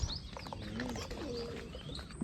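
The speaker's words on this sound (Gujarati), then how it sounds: "મોરલા અને કબૂતર ચણ ખાય છે જો" Pigeons coo softly near Willingdon Dam in Junagadh as they and peacocks peck at grain, a few low cooing calls with faint chirps over quiet background.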